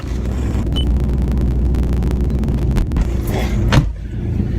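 A car engine rumbles steadily nearby, swelling as the vehicle rolls up and settles, with a brief mechanical whine near the end.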